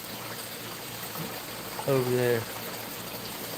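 A garden pond pump sends water splashing out into a backyard creek, a steady soft trickling wash in the background while someone talks briefly over it.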